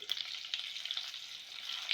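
Stuffed capsicums frying in oil: oil sizzles and crackles steadily in a pan, a bright continuous frying hiss with small pops, fairly quiet and without voices.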